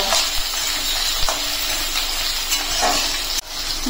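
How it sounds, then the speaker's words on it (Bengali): Chopped carrot and potato fry in a pan with a loud, steady sizzle and hiss, broken by a few soft scrapes of stirring, close up and with no talking. "গাজর আলুটাকে প্রথমে একটু ভেজে নেব।"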